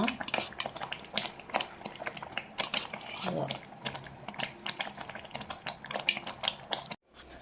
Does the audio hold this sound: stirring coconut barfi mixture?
yes